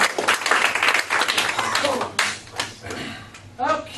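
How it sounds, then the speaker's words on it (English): An audience claps for itself in a round of applause, a lively patter of hands that thins out into scattered claps with voices talking in between. "just give yourselves a round of applause"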